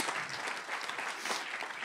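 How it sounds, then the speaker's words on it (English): Steady audience applause fills a keynote at a professional speakers conference, a dense, even wash of clapping from a large crowd, close and continuous throughout with no voices on top. "Could you feel it from Jerome? Yeah, come on, give him another clap."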